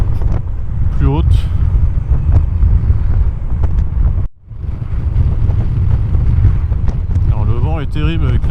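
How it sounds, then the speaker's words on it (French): Strong wind roars and buffets constantly around a rider on a 2025 Honda Forza 125 scooter with a windscreen, cruising at about 45 km/h, with someone speaking throughout over the loud rushing noise. "Alors le vent est terrible avec la bulle."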